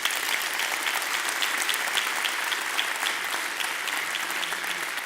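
An audience at a conference claps steadily in a dense, even round of applause lasting several seconds, with no voices over it.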